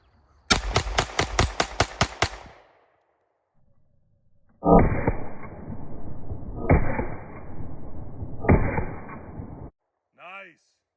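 A G-Force Arms Chronicle 1911 9mm pistol loaded with Winchester ammunition fires a fast string of about nine sharp, close shots in quick succession, followed by long stretches of loud clattering noise.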